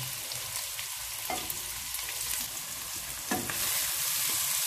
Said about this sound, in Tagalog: Sinod natin ang sibuyas. Maraming sibuyas.